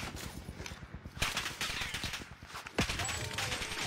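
Rattling bursts of gunfire in a battle royale match of Apex Legends, fairly distant and quick-firing, with louder shot clusters around the middle and end.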